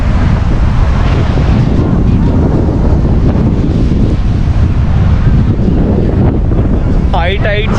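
High tide surf and strong wind at Calangute Beach, Goa, in rainy weather: steady loud roar of waves and buffeting wind across the mic, continuous throughout, with a faint bird-like chirp near the end.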